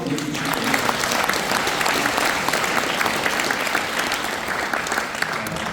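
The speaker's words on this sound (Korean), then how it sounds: "우리 지사님한테 큰 박수 한번 보내주시고" An audience applauds Governor Lee Cheol-woo after his lecture, a steady dense wash of clapping from many hands that stays loud and even throughout, with no voices standing out.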